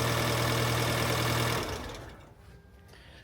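An Alfa Romeo Giulietta facelift engine idles steadily and close up for about a second and a half just after an oil service, then shuts off, leaving quiet room ambience.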